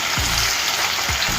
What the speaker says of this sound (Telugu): ఇదంతా కూడా వేయించుకోవాలి. ఒక 3 నిమిషాలు దీన్ని ఉడికించుకోవాలండి.